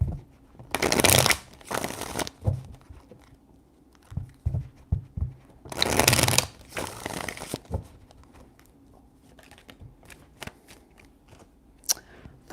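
Tarot cards shuffled by hand in two loud riffling bursts with softer taps and card handling in between, close and clear with no talking.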